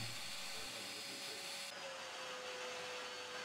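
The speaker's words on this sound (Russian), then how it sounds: "Когда мы включаем пылесос, крышка присасывается к стволу." A vacuum cleaner runs with a steady, loud hiss and whine while hooked by its hose to a homemade vacuum bazooka tube, and its tone shifts slightly partway through.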